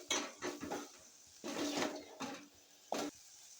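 While chicken curry is being made, a steel mixer jar and a cooking pot clatter together in several short metallic clanks and scrapes, close by and irregular, with quiet gaps between them.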